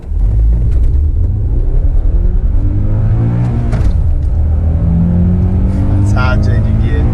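A Honda Accord Euro S accelerates hard, its engine droning loud and close as the pitch climbs steadily through the gears, with a brief dip at a gear change and a voice talking over the roar.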